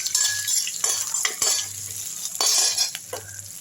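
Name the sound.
sautéing dried red chillies and tamarind in oil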